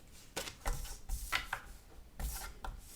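Cardstock scraps being chopped on a paper trimmer for a stamping album, several short slicing strokes and rubs in an uneven rhythm, close but quiet, with no voice.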